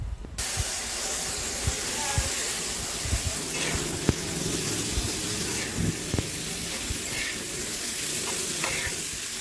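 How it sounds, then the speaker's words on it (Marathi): Tomatoes hit a hot pan beside eggs in a home kitchen, producing a steady, close frying sizzle with scattered pops and clicks throughout, and a voice speaks faintly in the background. "आता याच्यावर आपण टोमॅटो टाकून घेऊ"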